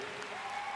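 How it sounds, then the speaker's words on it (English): Arena crowd at the Saitama 2023 World Figure Skating Championships clapping as a Canadian skater takes the ice for the men's short program, dense continuous applause that sounds full and distant. "And the arousing clap, a familiar sound for a Canadian competitor, as Conrad Orzel takes to the ice."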